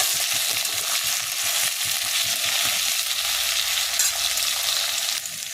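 Onion, capsicum, tomato and green chilli sizzle and crackle steadily in a hot pan for chilli paneer as they are stirred, a dense, close, continuous frying hiss with no talk.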